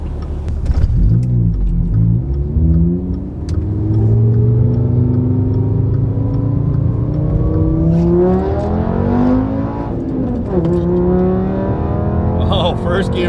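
Tuned VW 2.5-liter five-cylinder car with a Stage 2 engine setup accelerating hard through first gear, engine note rising loud and steady toward redline and shifting, with talk over parts of the run.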